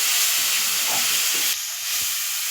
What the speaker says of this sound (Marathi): ही जी आपण ग्रेव्ही केली आहे टोमॅटो कोथिंबीर आलं आणि लसूण ती यामध्ये टाकून घ्यायची आणि याला छान परतून घ्यायची